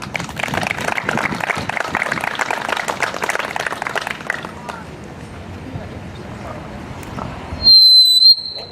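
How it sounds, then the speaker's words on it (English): A crowd at an outdoor Main Street mural unveiling in Wadsworth claps for the mayor for about four seconds, then the clapping thins into murmur and a brief high electronic tone. "please give a round of applause to our wonderful Mayor Robin Laba"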